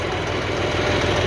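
A Massey Ferguson TAFE 30 DI tractor engine runs steadily and close up with a low, dense mechanical drone, its lever pushed fully down, with no voices over it.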